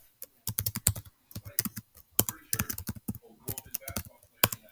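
Someone types a name on a computer keyboard while entering tax form details, producing bursts of crisp, close key clicks in uneven rhythm with short pauses between runs.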